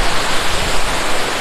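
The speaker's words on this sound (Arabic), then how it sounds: "والفيو الناحيه دي شلالات اهي" Lovers Leap waterfall in Nuwara Eliya, Sri Lanka, pours in a loud, steady broadband rush that fills the short stretch without pause.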